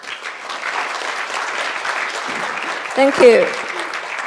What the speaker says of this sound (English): let's get a round of applause to two speakers